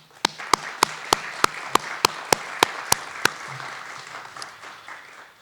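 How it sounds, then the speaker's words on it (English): Clapping at an architecture award lecture comes as a short run of about a dozen crisp, evenly spaced claps, close and distinct, then stops, leaving quiet room tone. "Please join me with a round of applause to thank all the jury members for their work."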